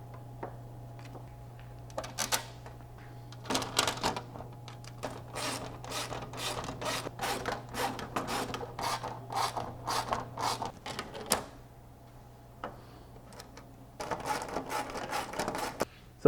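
Spill plates are bolted onto an adjustable drag wing on an SN95 Mustang with 10-32 bolts: rapid runs of ratchet clicks and rasping turns in bursts, close and fairly quiet over a steady low hum, without speech.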